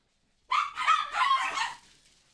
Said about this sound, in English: God, these fucking dogs,